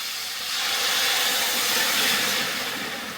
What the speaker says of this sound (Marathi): आणि आता आपण पाणी घालून घ्यायचं